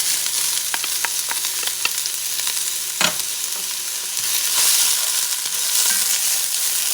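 Onion and jalapenos sizzle steadily in a pot over medium-high heat for an oxtail stew, a continuous bright frying hiss broken by a few spoon clinks and a scrape of stirring.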